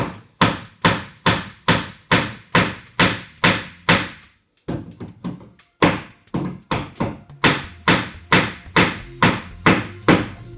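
A hammer drives ordinary nails into pallet wood with loud, evenly spaced blows, close up, falling in two long runs split by a short pause.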